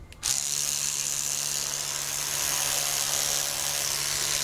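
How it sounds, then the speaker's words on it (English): An electric toothbrush switches on and buzzes continuously against pepper plants on an allotment, a steady close high-pitched whir with a constant low hum underneath, no talking. "Just going to demonstrate how I would use the electric toothbrush on the peppers."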